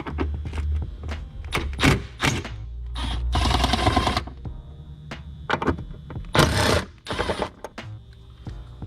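Pneumatic impact gun backing out 10mm bolts on the air box of a 2001 BMW 330xi with a 3.0L M54 engine, fitted with a 10mm extension: several loud, close rattling bursts of varying length, separated by short pauses and clicks.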